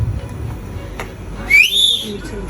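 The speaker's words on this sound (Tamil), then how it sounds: "ரோப் கொடுப்பாங்க, விசில் அடிங்க." A sharp whistle blown to start a rope game at a communication skills training session, one short rising blast over steady room background.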